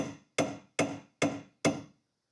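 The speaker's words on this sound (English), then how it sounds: "I might try and tap the cotter key past that." Five sharp metallic hammer taps in a steady rhythm drive a cotter key on the suspension of a 1966 short-wheelbase Porsche 911, each strike ringing briefly and close, with no talk.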